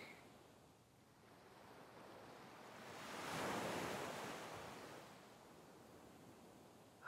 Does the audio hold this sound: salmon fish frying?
no